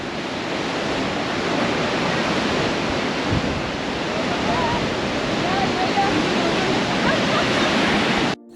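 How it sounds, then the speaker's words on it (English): A powerful waterfall in the Sierra Nevada roars in a steady, loud, broadband rush with gusting wind and mist, unbroken for the whole stretch before cutting off abruptly. "the water was extremely powerful, and you can almost just feel it with the wind and mist coming down"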